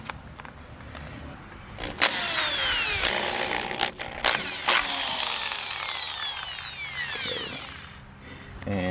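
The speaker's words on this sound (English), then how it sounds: "now I'm going to be using a 1/8 inch drill bit for the screws for the light" A power drill with a 1/8 inch bit bores screw holes while lights are replaced on a 1994 tandem axle trailer, its motor whining up in pitch in close bursts with brief pauses between.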